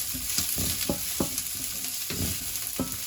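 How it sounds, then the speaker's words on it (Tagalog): Garlic sautés in a hot pan, giving a dense, close sizzle with quick stirring scrapes in an uneven rhythm, and no voices. "Let's saute the garlic and then put the onion."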